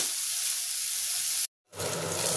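Potatoes with a pinch of turmeric sizzle steadily in a hot pan, a loud continuous fry that cuts out briefly and then resumes.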